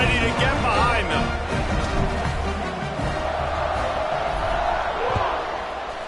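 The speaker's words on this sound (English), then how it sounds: "this crowd now ready to get behind them" Football stadium crowd just before kickoff, a broad, steady roar of many voices at close-to-mid range, with rising cheers and whoops layered over the continuous din; a commentator talks over it.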